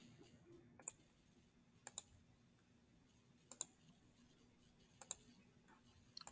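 A computer mouse clicks quietly during CAD sketching, with single and paired crisp clicks spaced a second or two apart over a faint background hum.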